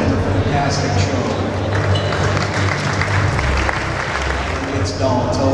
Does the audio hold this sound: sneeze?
no